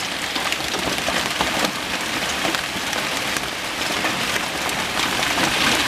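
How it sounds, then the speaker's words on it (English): Large hailstones, reportedly about tennis-ball size, pour down in a summer storm, heard through a window screen as a dense, steady roar of hard impacts and patter with no voices. "Whoa, now we're getting some really big hail."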